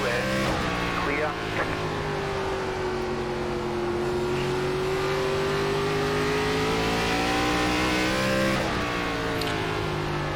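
Stock-car engines roar steadily in an iRacing ARCA Series race at South Boston, a sustained droning engine note that slowly rises and falls, with a spotter's voice talking over it over the radio.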